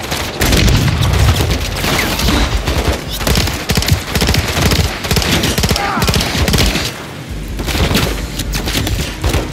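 Call of Duty Modern Warfare 3 combat brings loud, sustained bursts of automatic gunfire with dense rapid shots and occasional booming impacts, briefly pausing before resuming.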